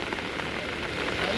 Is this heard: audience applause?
no